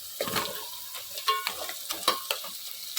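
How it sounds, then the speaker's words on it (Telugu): Curry leaves sizzle in hot oil in a pan of frying crab curry while a spoon stirs, giving close crackling bursts and scraping clatters in an irregular rhythm, with no voices. "చాలా కొంచెం ఇంకా కరివేపాకు వేసుకొని"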